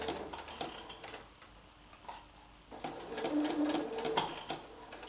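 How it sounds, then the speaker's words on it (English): A sewing machine stitching a curve while easing fabric in, running slowly in short bursts with a fast mechanical ticking, stopping briefly before picking up again, close and clear. "we've got the challenge of sewing a curve as well as easing fabric in"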